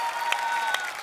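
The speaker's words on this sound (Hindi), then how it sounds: "सिद्धू जी के लिए जोरदार तालियां।" Studio audience on The Kapil Sharma Show breaks into a short, steady burst of applause for Sidhu, dense clapping with a couple of sharper claps standing out, loud and close throughout.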